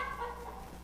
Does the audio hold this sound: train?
no